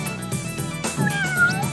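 Cartoonish cat meows from the video game Tasty Planet: Back for Seconds, a few close, clear meows in quick succession over a light game backdrop, the last one drawn out and wavering.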